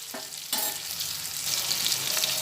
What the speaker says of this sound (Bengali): দিয়ে সব একসঙ্গে নাড়াচাড়া করে ভেজে নিচ্ছি